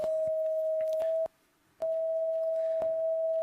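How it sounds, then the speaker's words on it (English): A steady electronic sine-like tone from a colour sensor, sounding the colour purple, holds one pitch with a brief break in the middle, accompanied by faint clicks. "this is the sound of purple."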